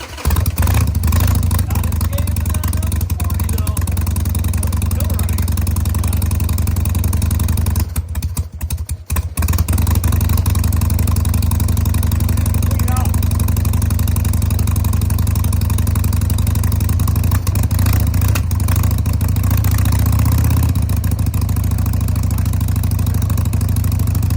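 A Harley-Davidson Sportster, a 100th Anniversary barn-find bike needing a carburettor clean, idles with a steady low, loud throbbing rumble, briefly faltering partway through, with no talk over it.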